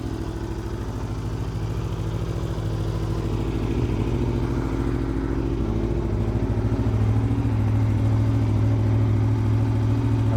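An Aprilia RSV4 1100 Factory motorcycle idles after a cold start, its engine giving a loud, steady, close-up drone with a throbbing pulse and no talk over it.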